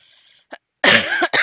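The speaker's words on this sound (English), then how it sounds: "Sorry for the coughing." A person coughs close by indoors, a couple of harsh, rough bursts in quick succession after a brief faint sound, loud and without talk.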